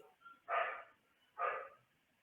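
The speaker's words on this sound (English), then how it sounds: "who is that noisy dog as well?" A dog nearby gives two loud, separate barks about a second apart, with quiet between them.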